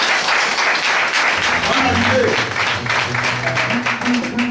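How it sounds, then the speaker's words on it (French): A church congregation claps and cheers loudly in sustained, dense applause, with a voice speaking over the crowd partway through. "nous allons acclamer très fort"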